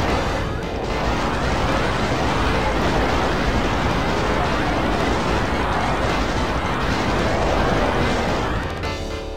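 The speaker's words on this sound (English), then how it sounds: "And then rocket launcher still equipped, I'm just gonna go ahead and mow these guys down over here. Now plasma auto rifle in hand." Relentless Doom II combat as a rocket launcher and then a plasma rifle fire continuously, with dense, overlapping blasts and crackling bursts forming a loud, unbroken wall of noise.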